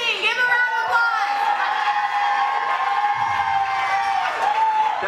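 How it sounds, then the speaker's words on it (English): A crowd at the Hard Rock Cafe's Hard Rock Rising band competition claps and cheers for a band, a dense sustained wash of applause with whoops and overlapping voices. "Give a round of applause!"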